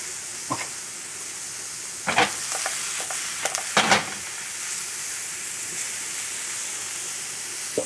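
Mushrooms fry with a steady hiss in a pan, broken by a few sharp scrapes and clacks as they are stirred.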